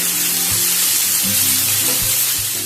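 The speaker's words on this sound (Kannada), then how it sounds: "ಒಂದು ಎರಡು ಟೊಮೆಟೊನ ಹಾಕೊಂಡ್ಬಿಡುವ ಸೊ ಈಗ ಇದನ್ನು ಸಹ ಅಷ್ಟೆ ಈ ಟೊಮೆಟೊ ಎಲ್ಲ ಸ್ವಲ್ಪ ಸಾಫ್ಟ್ ಆಗೋವರೆಗೂ ಇದರಲ್ಲೇ ಈಗ ಕುಕ್ ಮಾಡುವ" Onions and tomatoes fry in a pan for a brinjal and cashew yennegai curry, giving a loud, steady, close sizzle that continues without a break and has no talk over it.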